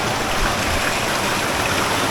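Small waterfall spilling over rocks inside a cave, a steady, dense rush of splashing water filling the space close by without a break.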